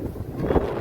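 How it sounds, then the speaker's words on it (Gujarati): Strong gusty wind during the first monsoon rain in Gujarat, a short burst of rumbling buffets against the microphone that is steady and loud throughout. "પવન બહુ છે"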